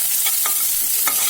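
Chopped onions sauté in hot ghee with cinnamon, cloves and cardamom for ghee rice, a bright continuous sizzle broken by a few quick spoon scrapes, close up and brief.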